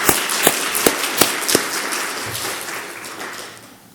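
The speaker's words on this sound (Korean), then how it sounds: "우리 청년팀에게 감사와 격려 박수 보내면 좋겠습니다" A church congregation applauds the youth worship team, starting with a few sharp, evenly spaced claps that give way to a softer, fading patter.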